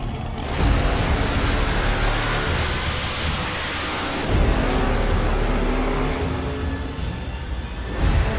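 Drag racing door cars lined up in a staging lane at the Summer Fling event, engines rumbling and revving loud and close in a continuous roar, with swells in intensity and no talk.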